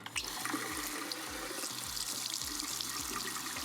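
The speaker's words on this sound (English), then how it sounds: "I'm going to use some slightly warm water just so that I don't freeze" Slightly warm water runs steadily from a tap into a sink, ready for hand-washing finished cross-stitch embroidery, a continuous close splashing rush with a low rhythmic gurgle beneath it.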